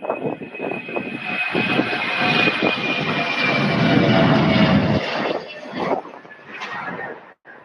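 Delta airliner departing Louisville airport toward Atlanta, a loud jet engine roar that swells and holds for several seconds, then fades away, heard from the field with no talking.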